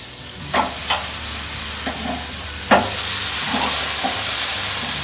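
Marinated beef flanken-cut ribs sizzling on an Akorn kamado charcoal grill, a steady loud hiss broken by a few sharp clicks and scrapes as tongs turn the meat, close and without talk.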